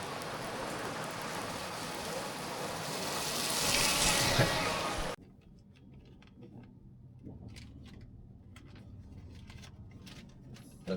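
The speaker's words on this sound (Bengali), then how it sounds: "আর বৃষ্টির সঙ্গে সঙ্গে নেমে গেছে, যদি দেখতে চান দেখাচ্ছি একবার। এই যে বৃষ্টি," Rain pours steadily at a temple during a bathing festival, a dense hiss that swells and then cuts off abruptly halfway, leaving fainter scattered drips and patter.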